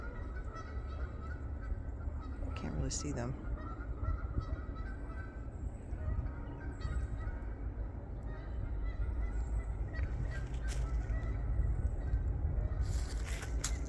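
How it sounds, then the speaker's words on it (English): Geese honk by the New River on a spring Appalachian Trail hike, a few calls standing out over steady wind and outdoor noise, with a brief spoken remark in the middle. "You can hear some geese honking."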